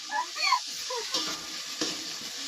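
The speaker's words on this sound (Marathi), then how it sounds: "हे लसूण अद्रक टाकतो. पहिले तेल गरम करायचं त्यात लसूण अद्रक टाकायचं." Garlic and ginger sizzle briefly in hot oil for a vada bhaji curry, with stirring scrapes and faint clatter in a home kitchen; the crackle is soft and close, fading after the first second.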